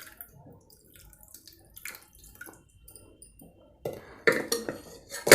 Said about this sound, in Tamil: இந்த தண்ணியை ஊற்றி இந்த மத்தெல்லாம் கழுவிக்கலாம்.